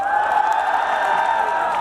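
Outdoor crowd at a guerrilla taxi concert in Yeouido cheering and applauding a K-pop girl group, a loud sustained wash of screams and clapping with high-pitched shrieks, steady throughout.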